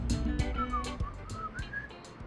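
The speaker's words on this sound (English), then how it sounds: "You hear the whistle?" A person whistles a short wavering tune, fairly close and moderately loud, over low background rumble and a few sharp clicks, on arrival in Nashville, Tennessee.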